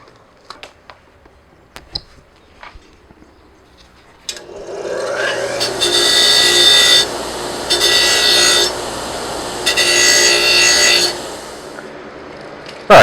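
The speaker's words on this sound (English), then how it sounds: "we can now come over here and do those on the outside wire wheel, on the bench grinder wire wheel" Bench grinder wire wheel scrubbing pinball machine parts during a Rollergames pinball restoration, a harsh steady rasping whir in three long bursts with short pauses, loud and close after a few quiet clicks and knocks.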